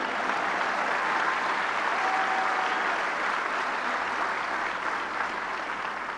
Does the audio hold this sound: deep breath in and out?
no